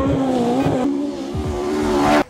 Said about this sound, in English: This is our brand new Hoonigan 1978 Mark II Escort that used to be a rally car